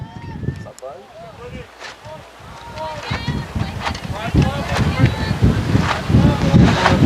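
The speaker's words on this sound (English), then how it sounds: "Wind howling in here from straightaway right." Gusty wind roars across an outdoor softball field, buffeting the microphone in heavy, uneven rushes that build toward the end, while voices talk over it.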